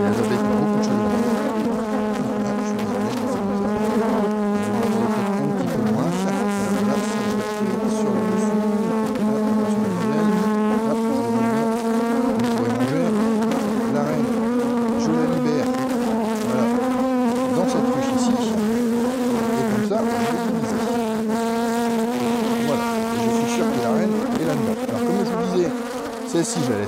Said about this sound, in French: au niveau du micro, il y a des abeilles qui ont beaucoup de choses à dire